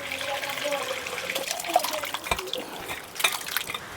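Whey from chhena pours and drains through a clean cloth laid over a strainer while making khoya gulab jamun, a steady close splashing trickle with some drips, and a voice talks over it.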